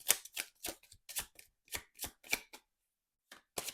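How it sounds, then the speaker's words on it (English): A deck of zodiac sign cards being shuffled in a quiet room, about a dozen crisp riffling bursts in quick irregular succession, with a short pause before the final few. "I have the zodiac signs times 5, so I have something to shuffle with"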